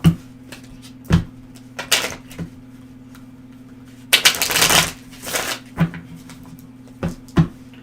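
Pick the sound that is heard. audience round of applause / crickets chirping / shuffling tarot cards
shuffling tarot cards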